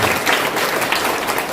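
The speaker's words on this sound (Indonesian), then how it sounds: "Tepuk tangan guna Pak Waduh" A church congregation gives a loud burst of close, dense applause during a sermon, packed hand claps running continuously for the brief moment.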